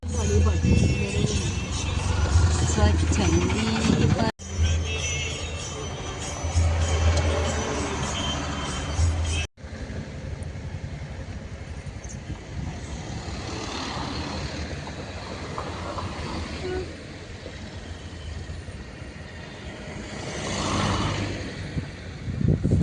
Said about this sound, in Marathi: तुम्ही बघू शकता आम्हाला ट्रॅफिक लागली आहे इथे